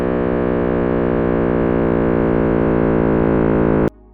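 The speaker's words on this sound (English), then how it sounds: "what came out is a low, endless rumble with small fluctuations" Cosmic microwave background radiation rendered as sound: a loud, steady low rumble with a dense drone of stacked tones and slight fluctuation, continuous for about four seconds before cutting off abruptly.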